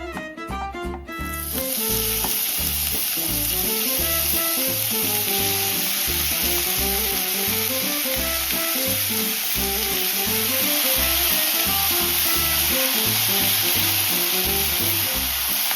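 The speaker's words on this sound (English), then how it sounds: "why are we frying or browning meat?" Loud, steady sizzling of meat frying in a hot pan, a continuous crackling hiss with busy popping underneath, close up.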